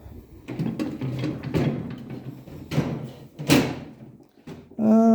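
Metal drawers of a Kamasa toolbox slide open and shut several times with rattling scrapes and clunks, close by, ending in a ringing metallic tone.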